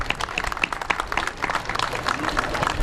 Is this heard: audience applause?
yes